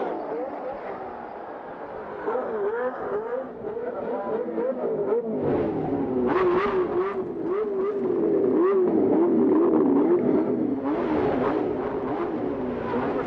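Indy race car engines drone and whine at the 1991 Indianapolis 500, the pitch wavering steadily as cars run past during a pit stop, with a crowd-and-commentary wash beneath.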